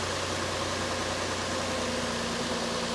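Nissan Frontier engine idling down, a steady faint low hum with broadband noise throughout.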